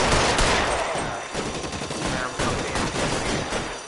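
Gunfire in a shootout in the video game L.A. Noire, with dense, rapid overlapping shots and bursts, loud and close, firing nearly nonstop.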